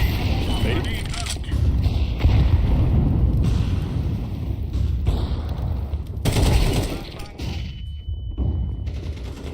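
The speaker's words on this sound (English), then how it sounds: "Throwing a grenade. Grenade out." A grenade thrown and exploding in Counter-Strike 2, set amid a dense, continuous barrage of loud gunfire and clattering in-game action with several sharp bursts.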